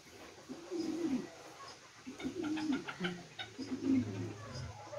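Pigeons on a farm give soft, low, repeated cooing calls in short bursts, fairly quiet and close, while faint voices and light background noise sit underneath.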